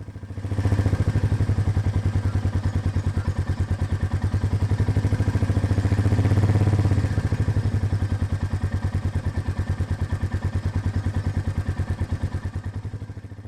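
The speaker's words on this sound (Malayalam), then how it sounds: "ഇതുപോലെ ഐഡ്ലിംഗ് സൗണ്ട് മാറുന്ന ഈ സ്ഥലം നമ്മൾ ഹൃദയസ്ഥമാക്കുക" A motorcycle engine idles close by with a steady, rapid thumping beat, swelling slightly midway as the clutch engages, then settling and easing off toward the end, with no voices.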